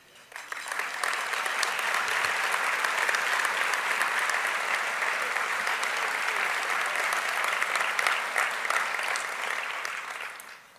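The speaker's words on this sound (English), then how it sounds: "We invite all of our elected officials and candidates for office to stand so we can give you a round of applause." A luncheon audience gives elected officials and candidates a sustained round of applause. Dense, even clapping rises quickly, holds strongly for about ten seconds, then fades at the end.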